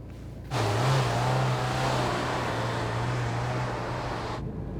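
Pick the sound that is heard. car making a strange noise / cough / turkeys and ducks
car making a strange noise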